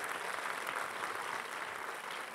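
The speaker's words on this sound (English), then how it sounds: "Round of applause" An audience applauds a panel of guests at an evening event, giving a steady, dense clapping that stays even and somewhat distant for the whole stretch.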